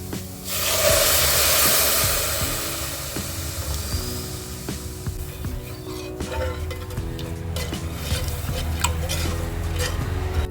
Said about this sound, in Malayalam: നമുക്ക് പാൽ ഒഴിച്ചു കൊടുക്കാം